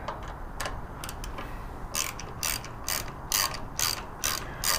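A ratchet tightens bolts on the air intake of a Harley-Davidson Road Glide Special, giving close, crisp bursts of clicking in a steady rhythm of repeated strokes with brief pauses between them.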